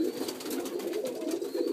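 Pigeons coo in a breeding loft, soft overlapping throaty warbles repeating continuously at close range, with no talk over them.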